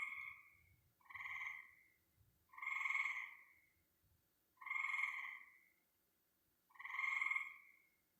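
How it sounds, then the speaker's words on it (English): Tree frogs croak in a steady outdoor rhythm, four or five loud, buzzy calls spaced a second or so apart, heard alone with faint low rumbles beneath. "Anybody else hear these tree frogs at all?"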